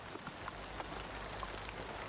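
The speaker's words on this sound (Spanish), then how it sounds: "¿Con esta lluvia?" Steady rain in an Old West setting, a dense, even hiss of drops on surfaces with faint scattered taps, continuing unbroken and moderately quiet throughout.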